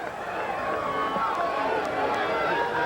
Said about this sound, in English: And the crowd, you can hear them.